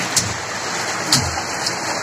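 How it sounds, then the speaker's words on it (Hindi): Heavy rain pours down in Delhi as a steady, dense wash of hiss and patter, with a few brief louder splashes and no voices. "तो आज दिल्ली में बहुत जमाजम बारिश हो रही है"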